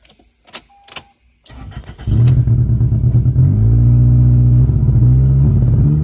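A 2002 Toyota Corolla LE with a bad motor cranks after a few clicks and knocks, then catches and runs loud and rough, with an uneven, lumpy drone that wavers throughout.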